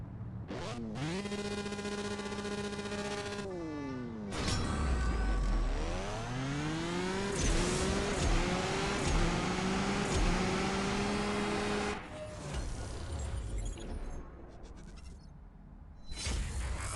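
Lamborghini Sián FKP 37 racing in the mobile game CSR Racing 2, its synthetic engine revving up through rising gear sweeps, dropping at each shift, then fading into softer game sounds at the end, loud and continuous with no talk.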